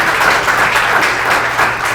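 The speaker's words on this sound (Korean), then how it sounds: "선수들 같이 박수 한번 해주시면 감사하겠습니다." Players applaud at the 2024-25 PBA-LPBA professional billiards team league media day, a brief, dense burst of clapping from a group indoors that stays steady for about two seconds.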